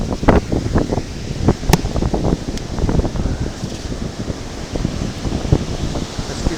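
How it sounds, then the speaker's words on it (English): Wind blows steadily at the water's edge near high tide, a loud gusty roar buffeting the microphone with continuous rumbling bursts throughout. "guess you can hear that wind blowing"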